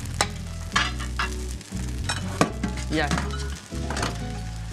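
Bread sizzling in butter in a pan for a chicken croque monsieur, a loud, close, continuous fry with scraping and stirring noises on top and a brief voice speaking once.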